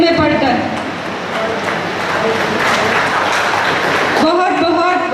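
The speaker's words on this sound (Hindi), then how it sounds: "अगर आप तालियां अब नहीं बजाएंगे तो फिर कभी और बजानी पड़ेंगी।" Audience applause at an environmental award ceremony in India, the Paryavaran Shree 2016 honours, a dense steady patter of clapping close by that runs throughout, mixed with voices talking over it.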